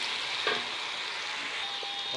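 Onion, ginger and garlic frying in a pan while being browned, giving a steady close sizzle with a couple of brief stirring clatters, no talking.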